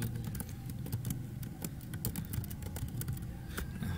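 Rapid typing on a computer keyboard while working in an Ubuntu Linux terminal, a steady run of close, crisp key clicks over a low background hum.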